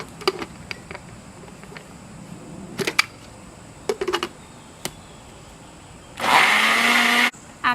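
Scattered clicks and knocks, then a blender pulping paper with water whirs loudly for about a second before stopping.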